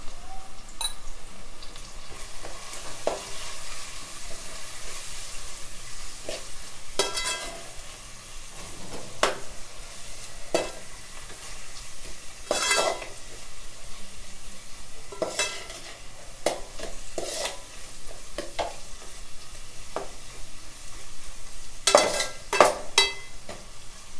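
Fish with a light sprinkling of turmeric frying in a pan for Nellore fish curry, a continuous sizzle broken by repeated scraping stirs and occasional utensil knocks against the pan, close up with no talking.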